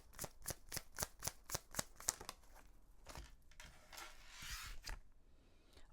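A deck of tarot cards being shuffled close up, a rapid run of about a dozen crisp riffling snaps followed by a softer, longer sliding shuffle, with no talking.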